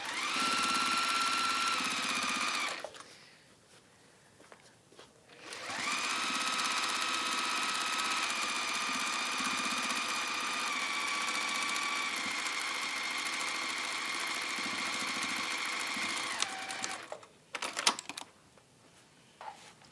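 A sewing machine runs in two long steady bursts, top stitching around the rim of a waxed-base drawstring caddy, loud and close with a short pause between runs and quiet handling at the end.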